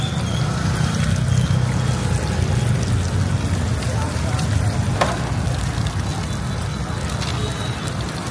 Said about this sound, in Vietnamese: Chiên bỏ muối tiêu vô, hành lá vô đây ăn ngon lắm